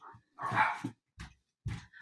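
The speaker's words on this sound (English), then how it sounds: "the dogs are barking" A dog barks several times nearby, a short burst followed by a few separate sharp barks with brief gaps between them.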